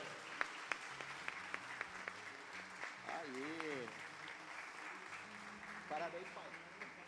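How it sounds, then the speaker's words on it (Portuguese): A church congregation claps for several seconds, with scattered sharp claps and a few loud ones near the front, while voices speak and call out over the applause. "Vamos aplaudir ao Senhor?"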